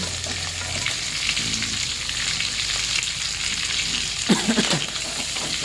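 Marinated pork belly (liempo) fries in a pan with a constant, close hiss. Near the end a few soft, thudding stirs cut through the sizzle. No one speaks.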